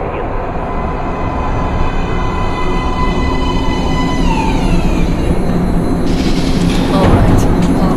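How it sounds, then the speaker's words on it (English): A metro train pulls into an underground station platform in Metro: Last Light, a loud steady rumble of rolling wheels with a rising whine and squealing brakes near the end as it comes to a stop. "Please step away from the edge of the platform. Train coming in."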